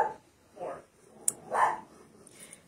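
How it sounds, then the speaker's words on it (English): A dog barks indoors in a few separate muffled bursts, at moderate distance, mixed with a voice talking. "Now she has to start barking while I'm live."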